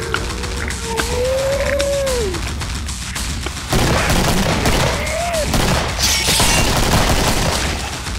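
Dense gunfire from the zombie shooter Killing Floor runs nearly nonstop, sharp shots stacking into a continuous loud fusillade with a few heavier booms, while a rising tonal game sound passes through.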